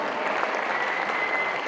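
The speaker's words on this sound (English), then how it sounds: "let's give a resounding applause to our speakers today" Applause from a high school audience for the day's speakers: a steady, even wash of many hands clapping at a fairly distant, moderate level, with no talk over it.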